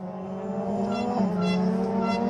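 Ford Fiesta rally car on a wet stage at Rally Monte Carlo, engine droning loud and steady with a rising rev and faint tire hiss, no talk.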